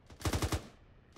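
A short burst of automatic gunfire in Arma 3: four rapid, evenly spaced shots fired close, with nothing else heard.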